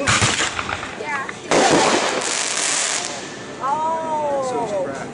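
Fireworks burst during a Fourth of July celebration, several sharp cracks and booms at middling distance with crackling decay, while people talk in the background and a whistling rise trails off near the end.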